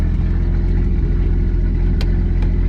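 A Nissan 240SX with a swapped 2JZ engine runs steadily, a loud, continuous low rumble with no breaks across the short stretch and no talking.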